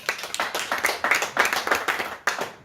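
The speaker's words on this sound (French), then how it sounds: "dont on peut l'applaudir également" A small audience at a literary conference applauds with many distinct, quick hand claps, steady and fairly close, with no voices over it.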